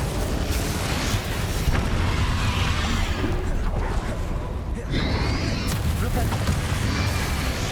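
Booming fiery bursts from an Incendio fire spell in Hogwarts Legacy, a loud roaring blast with a sharp new surge near the middle, amid ongoing battle noise and voices.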